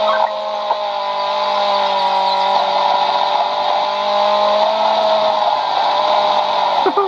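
A light blue Lotus Elise races through a police-chase video game, its engine holding a steady high whine with a constant roar of road noise, loud and unbroken.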